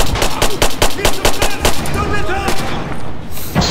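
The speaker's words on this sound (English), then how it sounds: "Stop shooting with your pistol, comrade." Rapid pistol gunfire crackles in Red Orchestra 2, a dozen or so sharp shots in quick succession over the first couple of seconds, loud and close, followed by scattered battle noise and a few faint voices.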